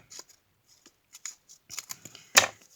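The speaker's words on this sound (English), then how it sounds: "I have to think these things through and just cut it in half." Scissors snip sticker paper from a craft journal kit in a few short, sparse cuts, close and quiet, ending in one sharper final snip.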